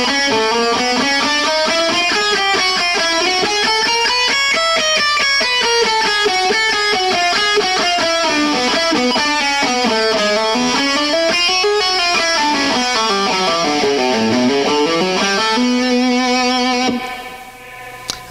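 A slow electric guitar riff built on chromatic runs, blues-scale phrases and pull-offs rises and falls in a continuous stream of distinct notes, loud and alone, ending on a held note before it cuts off.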